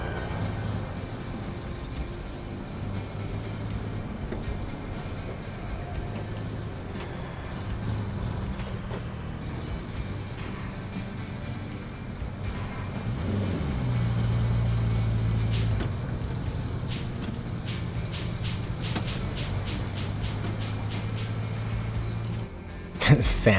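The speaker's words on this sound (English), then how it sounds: "And some mining trucks over there" Mining trucks driving in the video game RoadCraft, a steady low engine rumble that shifts in pitch and swells midway, ending in a burst of sharp clicks, with talk over parts of it.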